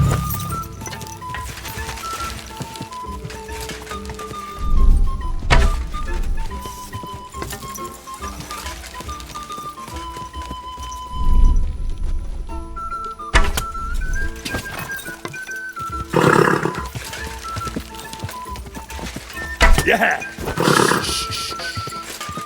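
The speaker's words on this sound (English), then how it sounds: "Easy, good horse. My, what a beautiful horse." A horse at a nomad camp during mounted archery in Kingdom Come: Deliverance II: hooves thud and clop in bursts, with brief neighing and occasional clinks, under intermittent talk and a shout.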